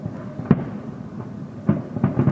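Fireworks bursting at night on 13 July, with two displays going off at once; several booming pops come at irregular intervals, the loudest near and sharp, over a low rumbling background.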